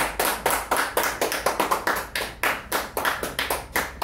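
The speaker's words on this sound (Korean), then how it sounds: "박수로 부탁드립니다." An audience applauds at the opening of a Korean CEO-course lecture with firm, evenly paced clapping at roughly two to three beats a second, loud and close, lasting the whole stretch without talk.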